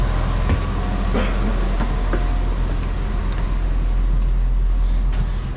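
Loud, continuous rumble of a moving train to the airport heard from inside, with steady rolling noise and occasional clacks and squeaks.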